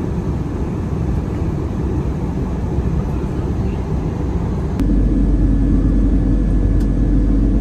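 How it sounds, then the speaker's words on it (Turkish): Airliner on its takeoff run at the start of a flight to Saudi Arabia, a loud, steady engine roar heard from inside the cabin that swells and grows heavier partway through as thrust rises. "Suudi Arabistan uçuşumuz başlıyor."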